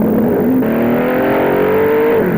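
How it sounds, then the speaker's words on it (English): A sports racing car at Brands Hatch circuit during the 1967 BOAC 500 race roars past close and loud, its engine note climbing and shifting pitch as it accelerates. "We too can share a lap of the circuit with some of the world's fastest cars."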